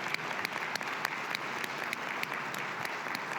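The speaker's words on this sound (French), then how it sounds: "I think we can start applauding right now." An audience at an OECD opening session applauds steadily, a dense, sustained clapping with individual sharp claps standing out, fairly close and without voices.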